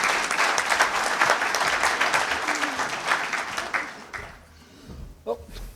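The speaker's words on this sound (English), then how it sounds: "So if you'll join me, give them a round of applause" An audience at a 2019 FVSC opening session breaks into steady applause for speakers, clapping dense and sustained for about four seconds before fading out, followed by a brief voice.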